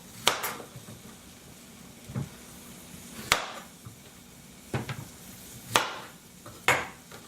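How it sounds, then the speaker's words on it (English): A knife cuts zucchini and yellow squash on a cutting board in a kitchen, with six or so sharp, separate chops spaced a second or two apart over a quiet background. "I'm going to chop the zucchini and the yellow squash."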